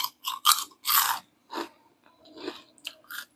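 Crunchy curry leaf vadam is bitten and chewed up close in a series of sharp, dry crunches with short pauses between them, and no one speaks.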